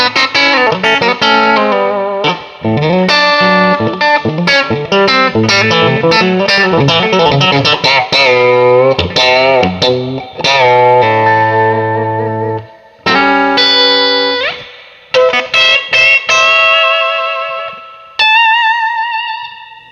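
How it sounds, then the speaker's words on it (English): Electric guitar played through a modified Fender Blues Junior III amp with heavy reverb, a run of picked notes and chords ringing out, ending on a sustained chord that decays. "As that's just the reverb on the amp, Chad."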